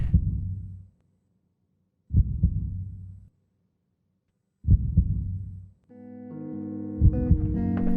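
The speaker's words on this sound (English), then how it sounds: "I had a heartbeat play before the song actually played" Slow, deep heartbeat thumps in widely spaced pairs, loud and close, with a low tonal hum creeping in toward the end.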